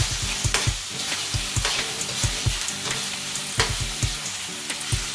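Butter sizzles loudly in a frying pan, a continuous crackling hiss broken by regular scraping knocks of stirring, all close and with no voices.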